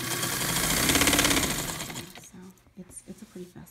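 A blue vintage Japanese chrome heavy-duty home sewing machine runs at maximum speed, a fast steady mechanical whir and rapid needle clatter for about two seconds before slowing and stopping, followed by a few faint separate thumps.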